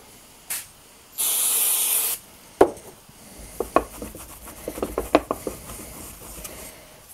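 Close, loud spray-can bursts, one short and one sustained hiss for about a second, aimed at a milled part, followed by scattered light knocks and handling clatter.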